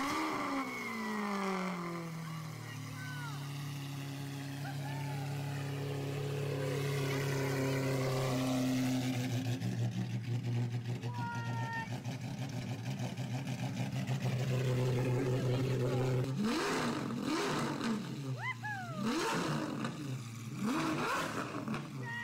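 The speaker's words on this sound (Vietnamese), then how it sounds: "Muốn khởi động xe thử xem, vừa nãy cũng thay dầu máy rồi." A Lamborghini Aventador SV V12 under repair after an oil change cranks and catches, its engine note rising and falling through sweeping revs and a few sharp blips near the end, with voices faintly underneath.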